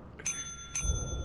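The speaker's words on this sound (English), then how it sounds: "I'm ringing the bell." A small bell in the video game Lethal Company rings twice in quick succession, bright metallic dings that ring out briefly over low background rumble.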